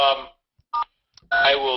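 Touch-tone keypad beeps on a teleconference phone line as star and 3 are dialed, two short clipped tones separated by a brief pause, clear and close with no talk.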